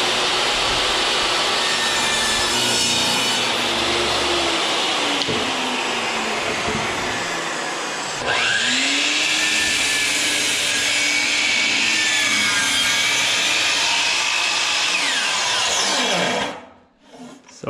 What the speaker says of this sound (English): let's rip our board to 10 inches first